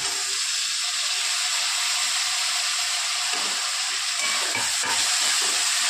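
Diced potatoes hit a hot pan with cumin, green chilli and coriander for a dry aubergine and potato dish, setting off a loud, steady sizzle of frying with a few stirring scrapes near the end.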